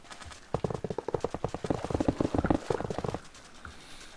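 Karts drift in a Mario Kart mod for Minecraft. A rapid, rhythmic run of soft thudding pulses, like quick galloping beats, plays for a few seconds and then stops, with quiet game ambience before and after.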